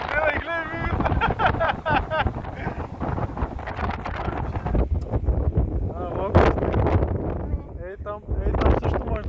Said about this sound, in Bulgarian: Това е вятъра, човек!